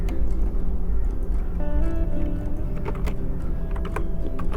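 Quick computer keyboard keystrokes click in short irregular bursts while a trim command is entered in AutoCAD, close and crisp over a low steady background hum.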